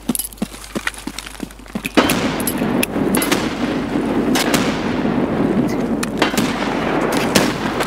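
Grenade explosions in Escape From Tarkov: after scattered sharp gunshot cracks comes a heavy blast, followed by rumbling debris and further rapid gunfire and pops, loud and close.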